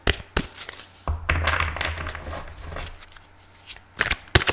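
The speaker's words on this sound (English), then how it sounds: "If you don't like the shuffling, please fast forward." Archangel Power tarot cards shuffled by hand at close range, with several bursts of riffling and sliding separated by short pauses, and no speech.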